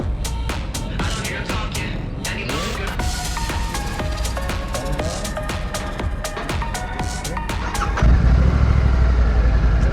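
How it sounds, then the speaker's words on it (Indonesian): Clattering mechanical noise with sharp clicks gives way to a Royal Enfield Shotgun 650 motorcycle engine catching and settling into a loud, steady low idle. "sekarang kita bakal test ride motor Royal Enfield Shotgun 650. Kita coba hidupin ya."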